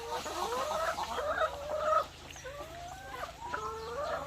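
Laying hens on a pellet-feed diet cluck and squawk in a series of rising calls, fairly close, with overlapping bird voices and a steady low hum underneath.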